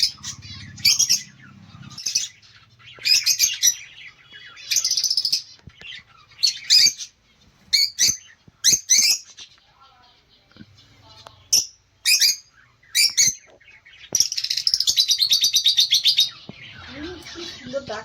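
Caged pet birds, now well grown, chirp in short bright bursts separated by pauses, loud and close, repeating irregularly throughout.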